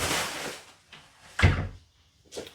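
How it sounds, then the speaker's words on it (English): An interior door pushed shut in a quiet room, with a soft rustle of handling followed by a solid thump and a smaller knock after it, close by and heard alone. "let me close this door."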